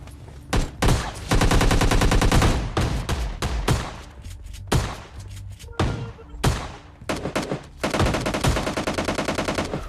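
Rapid gunfire in the battle royale game PUBG Lite, with loud bursts of automatic fire and single shots that start and stop through the clip, dense and close with no talking.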